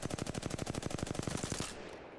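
An R-301 rifle fires in Apex Legends as a rapid, evenly spaced automatic burst of about twenty shots, loud and close, then cuts off into a short fading tail.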